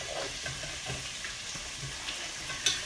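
Mushrooms browning in greasy bacon fat in a pan give a soft, steady sizzle with faint stirring scrapes and a small sharp clink near the end.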